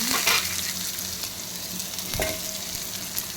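Dried red chillies and small onions sizzle in hot oil for a tempering, a steady close crackle with a few stirring scrapes and louder spits near the start.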